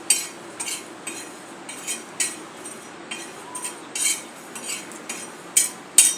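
Coriander and cumin seeds dry-roast in a pan while a spatula stirs them, making soft scrapes and light clinks every half second or so, close and quiet, alone.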